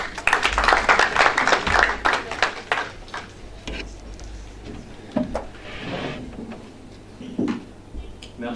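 Applause at a formal debate: a burst of dense clapping that thins into scattered claps and fades, followed by a speaker beginning to talk.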